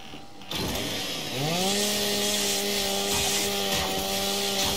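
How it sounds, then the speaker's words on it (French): A chainsaw from the Gears 5 video game starts up and then runs as a steady, loud, high-pitched whine while cutting through, holding constant after a brief rising start. "Ah, tronçonneuse. On passe à travers."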